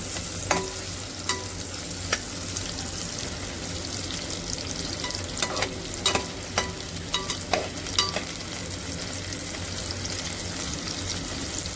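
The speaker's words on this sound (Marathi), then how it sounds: "कांदा व्यवस्थित परतून घ्यायचा. चांगला रंग बदलेपर्यंत परतून घ्यायचा." Chopped onion sautéing in a pan for Kolhapuri mutton mundi masala: a steady close sizzle with a spoon scraping and stirring in irregular clicks throughout, no talking.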